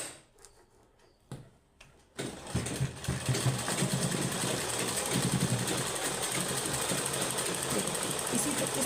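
A sewing machine runs steadily, stitching socks made from an old sweater; after a quiet start with a few soft taps, the machine's continuous rattling hum begins and holds close and even to the end, with talk over it.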